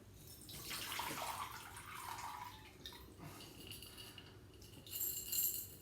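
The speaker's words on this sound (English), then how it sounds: "you're going to drain the water out of it." Water pours and trickles out of an upturned glass jar of sprouting seeds, a steady splashing drain that swells, thins to drips and splatters, then surges briefly again near the end.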